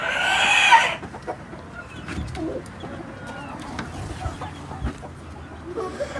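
Silver Brakel hens on a farm give soft clucks and short calls at a moderate distance, with a louder crowing-like burst at the start and faint rustling throughout.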